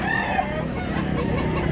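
A year-old Bulanting Hatch Hennei gamefowl rooster in Mantalungon, Barili, Cebu, gives a few close, clear clucks over a steady background hum.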